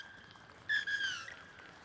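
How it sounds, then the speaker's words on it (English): Referee's final whistle at a Hong Kong versus Thailand rugby quarter-final, heard as a loud shrill blast of about half a second, followed by a longer, fading whistle tone over faint crowd ambience. "So that will be the final whistle,"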